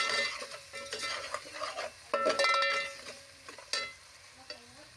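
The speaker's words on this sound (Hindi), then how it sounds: "अब इसको हम थोड़ा सा फ्राई करेंगे।" Crushed red chillies fry in a pan with a faint hiss, punctuated by clinking and scraping of a metal spoon stirring against the cookware, close and fairly quiet.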